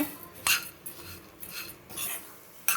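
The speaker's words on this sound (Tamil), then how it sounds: "இதே மாதிரி வந்து பருப்பை வந்து நல்லா கைவிடாமல் கலரி விட்டுட்டே இருங்க" Toor dal being stirred as it roasts dry in a pan: scattered metal clinks and scraping strokes of a spoon against the pan, close and intermittent, with quiet gaps between and no voices.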